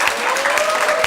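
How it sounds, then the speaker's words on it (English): A brief burst of audience clapping during a talk show, a loud, dense patter of many hands with no voices over it. "I think that's an applause break for The Rock"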